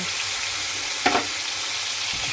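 Soaked fish pieces frying in a little oil in a non-stick pan over low flame, a steady hissing sizzle with one brief sharp crackle near the middle, no voices.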